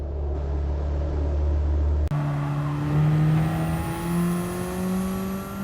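A race car engine in Gran Turismo 7 at Brands Hatch revs up hard after a sudden cut, its whine climbing steadily in pitch as it accelerates out of a corner, loud and close.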